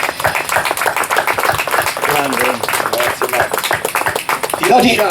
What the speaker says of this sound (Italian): qua vorrei veramente un applauso veramente forte